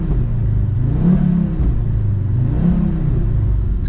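A Ford Focus RS Mk2 with a subtle exhaust revs twice in smooth, rising and falling swells over a deep steady engine rumble, close and fairly loud.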